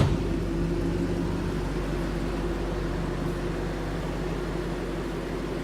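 A 2012 Ford Mustang Shelby GT500 in Kona Blue with the SVT Track Pack idles with a steady, low, droning engine rumble that holds evenly throughout, close by and unbroken, with no voices.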